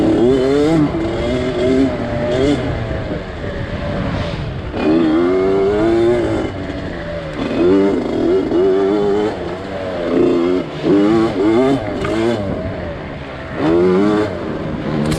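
A dirt bike racing a hare scramble on a wooded trail, its crank failing, revs loudly and repeatedly up and down, with rising and falling engine whine close by for the whole stretch.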